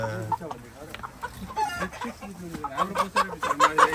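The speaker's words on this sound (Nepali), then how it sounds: "कुखुरा पक्रियो यहाँ छ" Chickens cluck and squawk close by, a rapid run of sharp calls that grows busier and louder toward the end, with some voices in the background.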